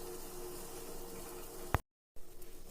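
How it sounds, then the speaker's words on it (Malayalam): A pot of water sweetened with jaggery syrup simmers on a gas stove for homemade green tea, giving a steady low bubbling hiss that breaks off briefly near the end and then resumes. "നല്ലപോലെ തിളച്ചിട്ടുണ്ട്."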